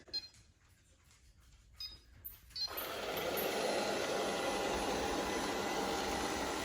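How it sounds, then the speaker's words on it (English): An ILIFE V5S Pro robot vacuum sucks up coffee grounds sprinkled on a floor, a loud steady broadband whir that starts abruptly after a few quieter clicks and knocks, then holds constant and close. "we're going to just see kind of how this vacuum reacts"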